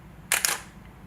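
A DSLR camera's mirror flaps up and its shutter fires at a slow 1/13 second, giving two quick, crisp mechanical clacks a fraction of a second apart, close and clear in a quiet room.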